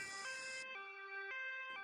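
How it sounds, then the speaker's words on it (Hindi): Cartoon ambulance siren sounding a clean electronic two-tone wail that steps between pitches, moderately loud and steady with no voices. "मैं एम्बुलेंस लेकर तुम्हारे पीछे आ जाता हूँ"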